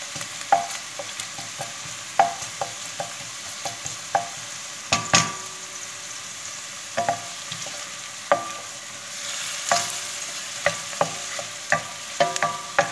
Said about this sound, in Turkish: İki dakikada soğanlarım sotelendi.